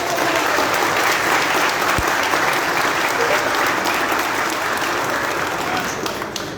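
An audience at a political meeting in Haiti claps loudly and steadily in a dense, sustained burst of applause that tapers slightly at the end.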